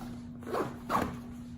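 A zipper on the Alps Outdoorz Pathfinder hunting pack is pulled closed in two quick, close strokes over a steady low hum, fairly quiet and with no talking.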